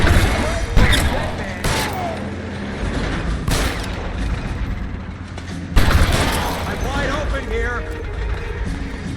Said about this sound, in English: taking cover and shooting at each other